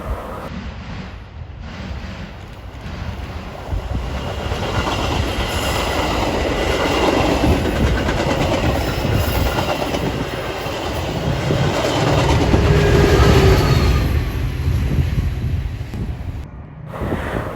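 A Metra commuter train crosses the Barrington Diamonds, pushed by a locomotive, with the roar of passing cars and rail clatter swelling and lingering, buffeted by wind noise on the microphone.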